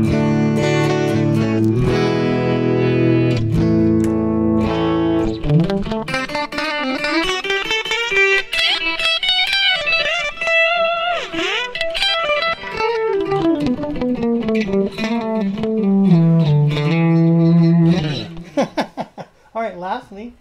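A sustained clean-toned electric guitar passage with chords and melodic runs, notes trailing into soft repeating echoes from a subtle delay effect that fill the space behind them.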